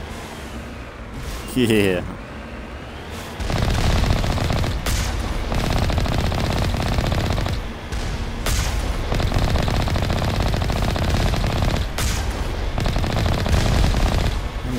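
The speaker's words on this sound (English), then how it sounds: "Missiles popping off." Missiles and heavy weapons fire in the Mass Effect Legendary Edition video game: sustained dense gunfire and blasts roar loudly and continuously, with a sweeping whoosh near the start and brief sharp bursts throughout, and a voice speaks briefly.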